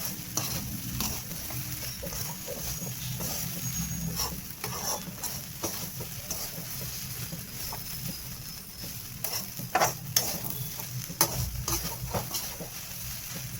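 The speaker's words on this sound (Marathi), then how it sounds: "फुल गॅसवरती व्यवस्थित परतून घ्यायची आहे खिचडी" Sabudana khichdi sautéing on full flame in a pan, a continuous close sizzle and frying crackle with repeated stirring scrapes and soft taps of a spoon, no voices.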